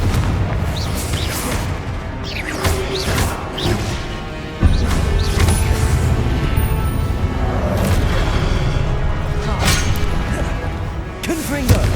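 Confringo blasting spells go off again and again in Hogwarts Legacy combat, sharp booming crashes and whooshes layered over constant loud battle noise, with spoken spell calls mixed in.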